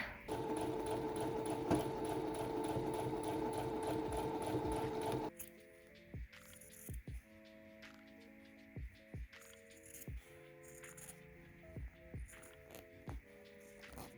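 A sewing machine stitching scrap-fabric pillow pieces runs in a steady, close whirring burst for about five seconds, then stops, followed by quieter clicks and handling taps.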